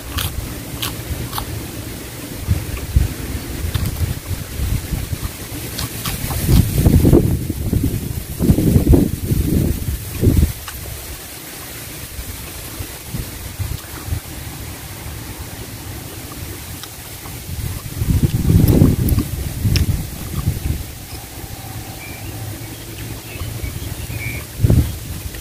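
Cool wind blows across an open rice field, buffeting the microphone in low rumbling gusts that swell twice for a few seconds each between quieter steady stretches.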